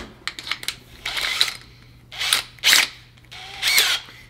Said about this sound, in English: So let's see it drill a hole.